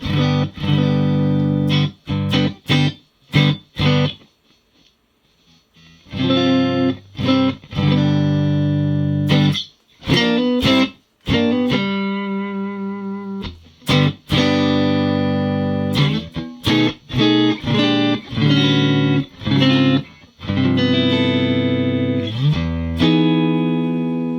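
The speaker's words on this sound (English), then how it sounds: "this is a amp modeler of a twin reverb. Okay, just dry, no effects. Neck pickup." Clean electric guitar, a Bullfighter D160SE on the neck pickup through a Twin Reverb amp model with no effects, plays single notes and chords with sharp plucked attacks and brief pauses, dry and close, no voices.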